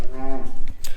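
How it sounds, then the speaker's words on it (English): Cows and calves mooing on a farm, one loud drawn-out close moo followed by shorter lowing and rustle, no talking. "I think there's about 10 calves there"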